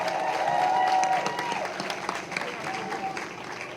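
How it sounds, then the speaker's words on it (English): Audience applause for performers, including Art Saves Lives students, at an Emancipation Day celebration, a broad wash of clapping that swells and then tapers, heard under a speaker's amplified voice. "give a resounding round of applause for our performers thus far"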